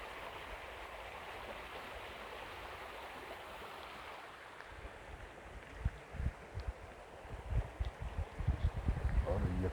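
Rainwater runs down a stream in a steady rushing wash that builds to louder, choppier splashing bursts in the second half.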